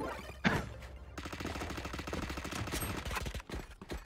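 Gunfire in a ranked shooter video game: a sharp opening shot, then rapid automatic bursts crackling over game background music, fairly loud and continuous before tapering off.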